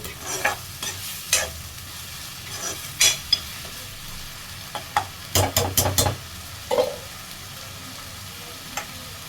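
Spice masala for dried fish stirred and fried hard over a high gas flame, a constant sizzle punctuated by clustered scraping and clanking strokes of the spoon against the pan.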